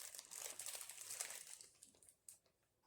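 Crinkly ripping of a soft, squishy plastic advent package, a steady rustle lasting about two seconds, then a brief crackle, quiet and close with no talking.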